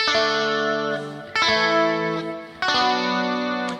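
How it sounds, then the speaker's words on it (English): Electric guitar chords with the pick raked backwards across the strings, three loud strummed chords that each ring out, each attack sharp, with effects-laden distortion and chorus colouring the tone. "the guitar player actually raked his pick backwards for some of the chords"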